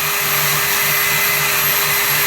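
HSK welder gun purging shielding gas with the trigger held, a steady, loud, continuous hiss with a faint low hum underneath, unbroken throughout.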